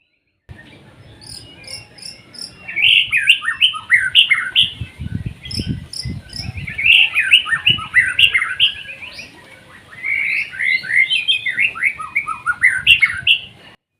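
A white-rumped shama, a pastel-colored murai batu, sings in bursts of bright, varied whistles and chirps, loud and close, over a faint background hum with no talk.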